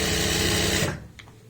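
A sewing machine runs steadily while stitching pants, a loud, close, continuous mechanical whir that cuts off abruptly partway through, followed by a couple of faint clicks.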